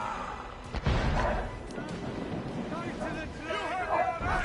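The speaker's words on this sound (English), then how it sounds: "Man the cannons!" Heavy ship cannons booming during a naval battle in the Assassin's Creed Rogue video game, a loud close blast followed by rumbling reports and sea-battle clamor, with crew voices shouting over the action.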